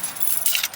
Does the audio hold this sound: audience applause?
no